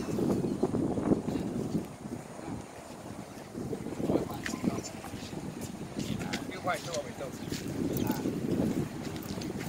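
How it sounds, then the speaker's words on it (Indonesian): Strong wind buffets the microphone outdoors, a continuous rumbling roar with gusty swells throughout, while people talk over it. "anginnya sangat gede, anginnya kenceng"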